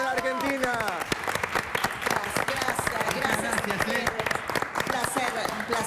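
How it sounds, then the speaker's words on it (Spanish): A television studio audience applauds Gustavo Sofovich during a live Argentina–Uruguay broadcast, with steady sustained clapping throughout and people talking over it. "propongo que los tres países aplaudamos al señor Gustavo Sofovich"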